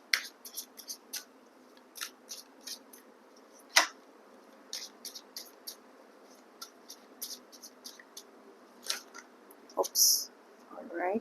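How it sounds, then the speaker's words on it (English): A deck of tarot cards being shuffled by hand, giving a series of short, crisp riffling and snapping bursts at an uneven rhythm, fairly close and moderately quiet, with no talking. "let's go ahead and shuffle the cards"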